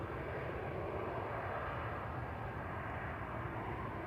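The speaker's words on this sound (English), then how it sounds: "It was a very sedate landing." A fixed-wing airliner landing at Manchester Airport gives a steady, broad engine roar that holds level throughout, heard from a distance with no talking.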